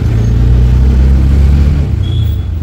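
Steady low engine rumble with a slight rev near the end, heard from inside an auto rickshaw riding through Mumbai, loud and continuous with no talk.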